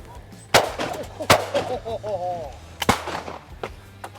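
Shotgun blasts at clay targets on a snowy shooting ground ring out sharply, several separate shots spaced across the moment, with people talking between them.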